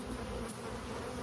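Honey bees at a robust, booming beehive produce a steady, dense buzz, close and continuous throughout, with no voices.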